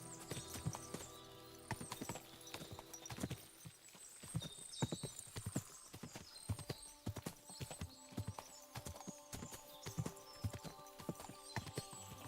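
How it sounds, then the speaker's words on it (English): In Kingdom Come: Deliverance II, many horses' hooves clip-clop on hard ground in an uneven, overlapping patter, with occasional whinnies and snorts mixed in, fairly close. "What a lot of horses!"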